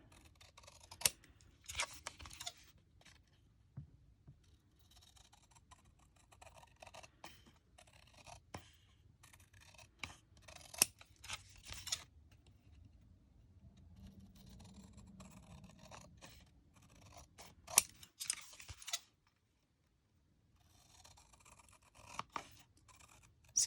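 Scissors snipping through a card front in short bursts of crisp cuts and scrapes, quiet and close, separated by pauses with light handling rustle.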